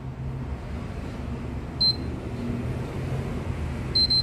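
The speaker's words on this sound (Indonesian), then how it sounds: "Lalu kita pencet lagi sampai bunyi bip-bip 2 kali berdekatan." Two short, high electronic beeps from a PS3 console spaced about two seconds apart over a steady low rumble of background noise.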